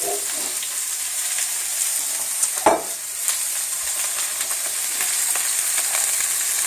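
Maui sweet onions frying in toasted sesame oil in a pan, a steady soft sizzle throughout with a brief louder stir or clatter near the middle, no voices.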